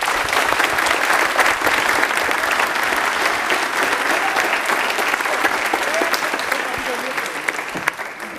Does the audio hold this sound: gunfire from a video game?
no